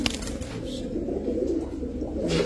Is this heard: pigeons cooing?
yes